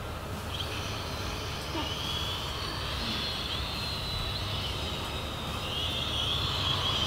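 A Bolon Toys K-911 toy quadcopter drone in flight outdoors, its rotors giving a steady high-pitched whine that holds without a break, moderately loud and close.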